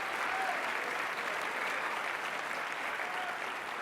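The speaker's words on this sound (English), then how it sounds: "I'd love to give yourself a round of applause, guys" An audience at the PlayStation Experience 2015 event applauds steadily, a dense and even wash of clapping from a large crowd heard at moderate volume throughout.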